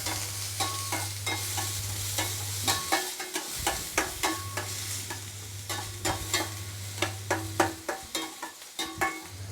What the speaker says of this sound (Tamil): அதுக்கப்புறம் கருவேப்பிலை இப்போ கொஞ்சம் வதக்கலாம்.